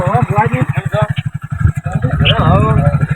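A motorcycle engine putters with a rapid pulsing rhythm close by, while several people talk and shout over it.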